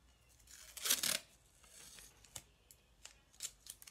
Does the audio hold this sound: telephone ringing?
no